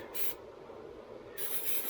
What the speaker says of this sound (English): I've got some PB Blaster here, and I'm going to spray down